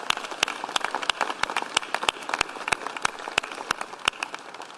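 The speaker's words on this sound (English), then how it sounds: "let us give them a round of applause." Audience applauding athletes at a public ceremony, scattered sharp individual claps spread through the room at moderate distance, fairly sparse and quiet.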